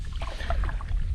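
Kayak paddle pulling through water on the weedy river Slea, a brief close burst of splashing and gurgling water over low rumbling wind noise, with no talk.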